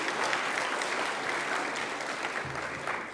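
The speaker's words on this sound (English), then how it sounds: "You can clap yourself for your success and joining." New students at a Sharda University orientation program clap together in steady, dense applause. It is fairly loud and continuous, tapering slightly toward the end, with no talking over it.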